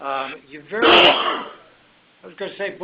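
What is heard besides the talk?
sneeze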